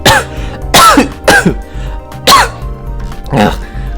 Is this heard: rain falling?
no